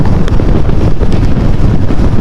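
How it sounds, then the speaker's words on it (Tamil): Strong wind gusting just before rain, a steady loud rumbling roar buffeting the microphone outdoors throughout, with no voices. "காற்று செம்மையாக இருக்குது."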